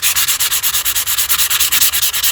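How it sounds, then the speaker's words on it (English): Light sandpaper rubs back and forth over an etched metal knife blade in a quick, even rhythm of about ten strokes per second, loud and close with no talking. "you can take some light sandpaper and"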